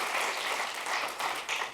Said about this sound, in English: While I appreciate your applause